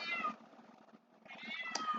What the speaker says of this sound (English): My cat now wants attention